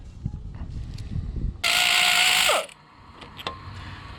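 A ratchet spins in one loud, sustained burst of about a second while bolts are removed from the lower unit of a 1982 Chrysler 100hp outboard, with scattered metallic clinks and handling noises before and after.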